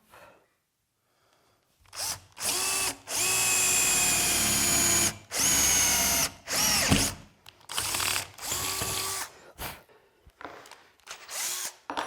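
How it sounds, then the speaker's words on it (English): A power drill runs in several loud bursts, whining up and bogging down as it bites through wood and then an aluminum flange, with short pauses between runs. "I drilled all the way through the wood and through that first flange of the aluminum."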